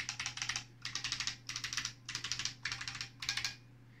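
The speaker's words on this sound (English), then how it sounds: "I'm going to try and type something vaguely convincing on this" Fast bursts of typing on a new-old-stock Electronica MC 7004 mechanical keyboard come in five or six clattering runs of rapid key presses, close and clear over a steady low hum.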